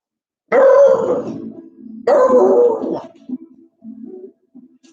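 A dog in a room gives two loud close barks or howling yowls about a second apart, followed by softer grumbling whines, no talk.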